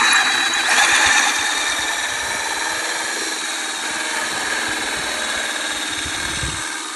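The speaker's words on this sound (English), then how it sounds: "This is a hole saw. I have it secured in the vise." A hole saw clamped in a vise runs steadily for the whole stretch, giving a continuous, fairly loud whirring mechanical drone with a slight rise in intensity near the start and no voices.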